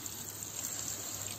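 Healing spring water flows out from between stones in a soft, steady rush and trickle, faint and continuous throughout, with no voices.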